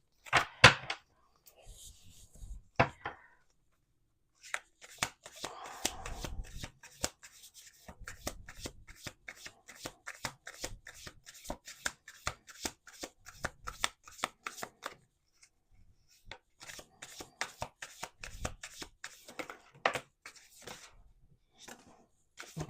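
A large deck of tarot cards is shuffled by hand in repeated quick riffling bursts, close and crisp, with short pauses between rounds and a few brief quiet gaps.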